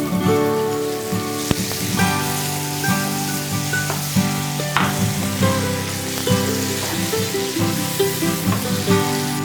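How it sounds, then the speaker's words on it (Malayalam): Tomatoes fry and sizzle loudly in a pan for Peshawari chicken, a steady close crackle broken by repeated clanks and scrapes of stirring with no voices. "നന്നായിട്ട് ഇളക്കി കൊടുക്കും"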